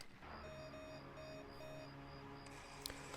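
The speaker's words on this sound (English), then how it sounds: "that was really fake beeps that were added in after the fact" Electronic beeps dubbed into a scene of The X-Files episode Shadows, repeated short tonal bleeps over a steady background hum, fairly faint.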